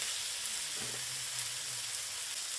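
Hamburger patties fry steadily in a pan on a home stove, giving a continuous soft sizzle with a brief faint stir or scrape partway through.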